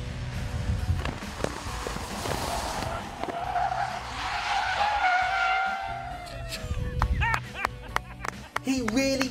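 A scooter spins out and skids during a race, with a long rubbery scraping squeal rising under crowd noise and scattered thumps, ending in sharp squeaks up close.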